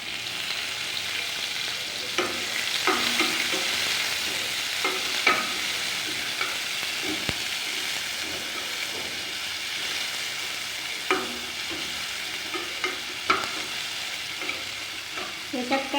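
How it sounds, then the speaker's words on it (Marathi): Green chili, garlic and onion fry in a pan with a steady close sizzle, while a spoon scrapes and stirs at irregular intervals throughout. "फक्त हिरवी मिरची, लसूण, कांदा हे जरा लालसर होतोपर्यंत परतून घ्यायचं."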